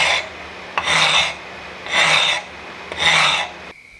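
Three slow, even rasp strokes file the wooden handle of a Pulaski axe, each a loud scraping pass with short pauses between, close and alone with no talk.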